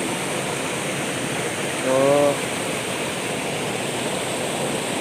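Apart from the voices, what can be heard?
small stream flowing over a mini waterfall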